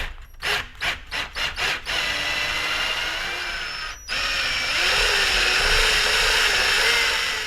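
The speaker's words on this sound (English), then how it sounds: "I'm going to use a 1/2 inch socket in order to screw in these lag bolts." A power drill with a half-inch socket drives lag bolts while a pressure washer is installed, several short bursts followed by longer sustained whirring, close and loud.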